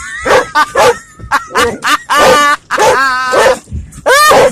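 A dog barks, yips and whines frantically in rapid, uneven bursts at a car wash, very close and loud.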